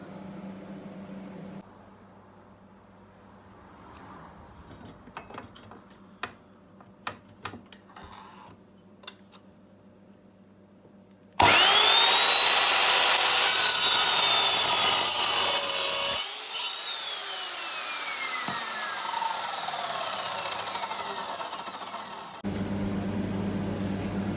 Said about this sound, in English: Now I've cut a bit of scrap metal on the saw.